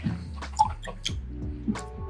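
Water dripped from close by into a glass of Lost Lantern vatted malt whiskey, several small distinct drips spaced irregularly over a quiet room with no talking.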